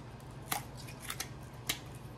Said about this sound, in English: We're gonna slide our scissors up in there and cut a slit